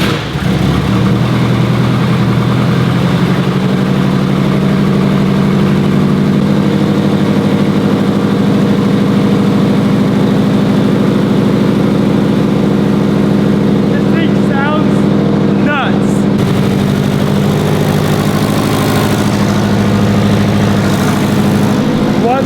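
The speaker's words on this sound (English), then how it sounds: "First cold start for the boys. Fully built STI." A fully built Subaru STI engine on its first cold start, idling loudly and steadily right up close with a slightly uneven rumble and a brief rev change partway through.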